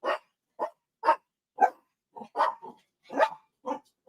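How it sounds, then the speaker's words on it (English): Several dogs barking, a string of sharp separate barks at an uneven pace with short gaps, moderately close and alone with no talk. "The dogs are making a noise."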